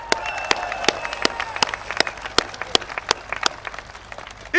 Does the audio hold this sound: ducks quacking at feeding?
no